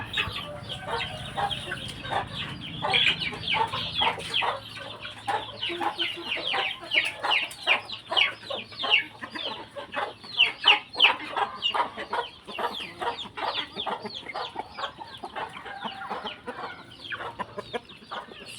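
A group of young free-range chickens clucks continuously in rapid, overlapping bursts, fairly close, with a busy barnyard rhythm and no speech.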